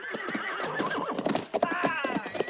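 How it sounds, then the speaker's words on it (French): Horses whinny and neigh in drawn-out cries over a mix of hoof clip-clops, loud and near, with voices mingled in around them. "J'aurais besoin d'une dizaine de chevaux."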